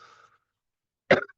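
A single short cough bursts out close to the microphone after a moment of quiet, preceded by a faint trailing voice at the start.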